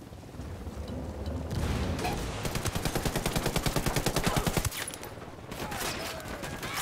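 Combat in Ghost Recon Wildlands: a heavy blast is followed by a long, rapid burst of automatic gunfire with evenly spaced shots, then a dull, noisy ambience.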